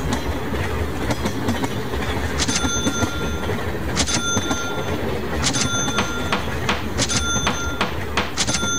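A CSX freight train rolls past with a steady rumble and repeated clickety-clack of wheels over rail joints, with metallic squeals and clanks scattered throughout.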